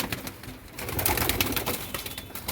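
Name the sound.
pigeons cooing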